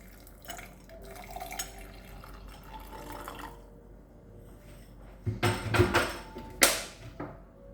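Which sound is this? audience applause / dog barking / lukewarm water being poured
lukewarm water being poured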